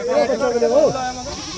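A goat at a goat market gives a single wavering bleat that rises and falls in pitch, loud and close, lasting under a second over faint background noise.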